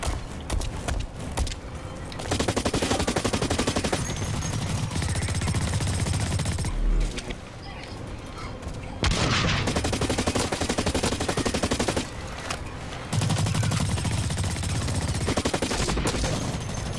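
Sustained automatic gunfire from the video game Blacklight: Retribution, loud and rapid in long bursts separated by brief pauses, with no talking.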